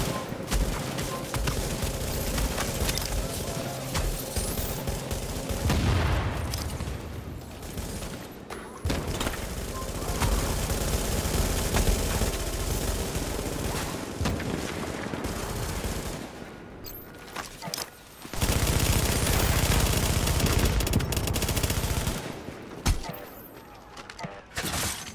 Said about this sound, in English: Hostiles are firing on a fortification in Alpha.